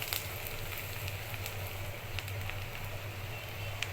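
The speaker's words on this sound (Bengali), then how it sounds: "দেখুন আমি পেঁয়াজটা ভালো করে নেড়ে চেড়ে ভেজে নিয়েছি" Onions frying in mustard oil in a pan, a steady broadband sizzle and crackle with a low hum underneath, continuous and fairly close throughout.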